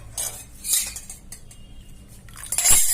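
A spoon stirs buttermilk into ragi malt in a vessel, giving soft scraping clinks against the sides in a few bursts, with louder clattering near the end and no talk.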